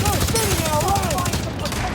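Sustained rapid gunfire in a battle from The Division video game, dense and continuous across the clip with game sound effects layered over it.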